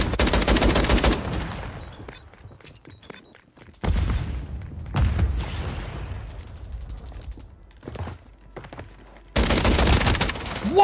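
Bursts of automatic gunfire in the video game Call of Duty Warzone, including a shotgun AR: loud rapid fusillades at the start and end with scattered shots and mechanical sounds between them.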